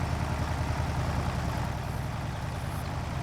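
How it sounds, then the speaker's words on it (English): A farm engine idles at low speed during a grape harvest, giving a steady, low, even rumble that stays close and constant, with no talking over it. "The engine is not rumbling too much."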